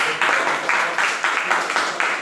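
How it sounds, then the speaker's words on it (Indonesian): Applause from students in a classroom, a burst of hand clapping with uneven pulses lasting about two seconds, fairly close and steady. "Baik, tepuk tangan dulu"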